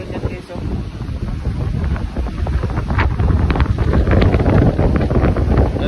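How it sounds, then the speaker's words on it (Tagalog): Strong wind buffets the microphone at sea off Bohol during stormy weather, with big waves rushing and churning underneath in a continuous, loud roar that builds toward the end. "Pakita ko sa inyo yung mga alon yan guys."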